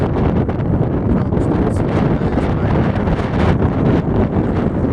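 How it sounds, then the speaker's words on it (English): Strong wind buffeting a microphone outdoors beside a freshly washed 2004 Tahoe, a loud continuous rumbling roar with gusty fluctuations and no speech. "Hope y'all can hear me because it's real windy."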